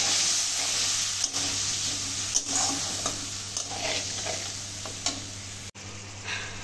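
Spice paste stirred and frying with potatoes in a pan for a vegetarian soybean curry, a steady close sizzle with occasional scraping stir strokes throughout.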